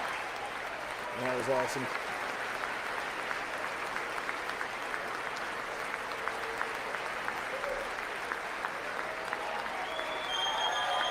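Long, steady applause in the chamber of Congress during the State of the Union address, a dense crowd roar of clapping that continues throughout, with a voice briefly speaking over it.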